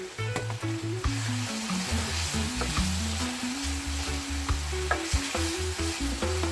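Scotch bonnet pepper added to a pot of Jamaican rundown sizzling and being stirred, a close steady frying hiss with scraping stir sounds and a rhythmic tonal hum throughout, no speech.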